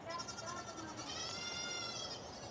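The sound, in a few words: goats bleating on a farm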